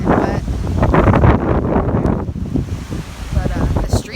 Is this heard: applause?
no